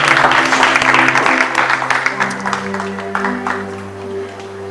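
A church congregation claps for Jesus Christ in a steady, dense round of applause with sustained music tones underneath, the clapping gradually thinning out toward the end.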